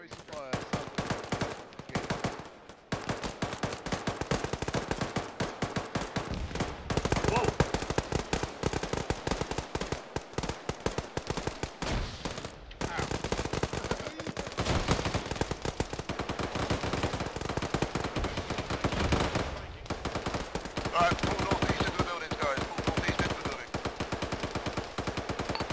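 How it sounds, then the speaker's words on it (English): Relentless automatic gunfire and machine-gun bursts in an Arma 3 military battle, rapid overlapping shots near and far with brief lulls, and players' radio voices speaking at times beneath the firing. "we got eyes on tracer fire"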